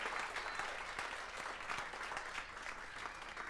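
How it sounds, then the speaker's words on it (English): A crowd at a Clubhouse Live event claps for the door openers, a sustained round of dense applause that holds at an even, fairly quiet level for a few seconds. "give them a big round of applause"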